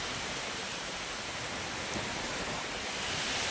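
Light rain begins falling over farmland in wind, a soft, even, continuous hiss that stays faint and distant with no voices.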